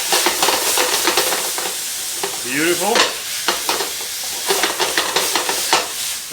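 Madeira wine bubbles and sizzles in a hot pan with chicken liver, a busy crackling fry with repeated stirring scrapes, close, under brief speech in the middle.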